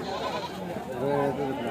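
Goats bleat in wavering, nasal cries at a weekly sheep and goat market in Kadiri, with a voice talking over them.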